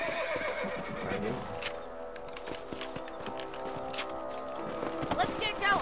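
Horses whinny and neigh with clip-clop hooves in the Red Dead Redemption video game, a ranch patrol on horseback, the neighs sharp and repeated over soft hoofbeats and rustling, with a voice speaking over them.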